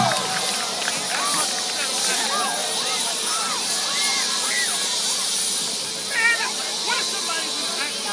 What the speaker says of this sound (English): Now that is the way to fly a helicopter.